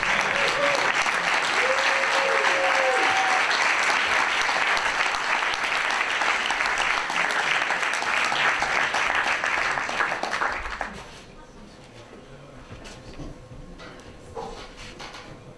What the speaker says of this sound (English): Okay, let's give an applause to Troels C. Petersen.